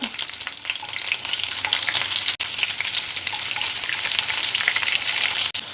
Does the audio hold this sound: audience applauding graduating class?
no